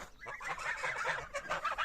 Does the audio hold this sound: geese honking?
yes